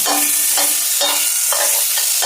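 Chili stir-fries in a small amount of oil for a squid dish, with a loud, steady sizzle and rhythmic scrapes of the spatula about twice a second. No voices.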